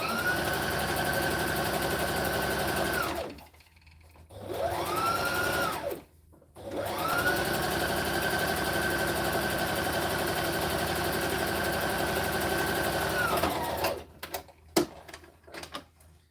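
A budget sewing machine runs steady stitching bursts on charity sewing projects, with a loud continuous motor whir, two short pauses between runs, then a few scattered clicks as it stops.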